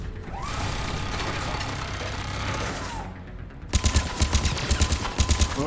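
Rapid automatic gunfire from Mass Effect 3 as a turret is shot: a dense roar of mechanical noise gives way to sharp, loud, evenly spaced bursts of shots in the closing seconds, with no talking.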